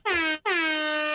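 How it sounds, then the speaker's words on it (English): An air horn sound effect blasts twice in quick succession, loud and close, the first blast short and the second held longer, with nothing else heard. "hit me with them air horns"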